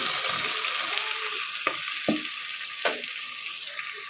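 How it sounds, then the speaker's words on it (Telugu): Chopped onions and green chillies fry in a pan for a chicken curry, giving a steady, bright sizzle with a few scraping knocks from stirring. "ఇప్పుడైతే ఉల్లిపాయలు బాగా కలుపుకొని ఫ్రై చేసుకున్నామండి"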